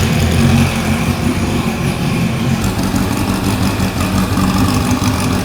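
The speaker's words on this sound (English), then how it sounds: "now we're going to turn on the bikes" Honda CB400 Super Four motorcycle engines idle steadily with a low, rumbling putter that continues evenly throughout, with no talking.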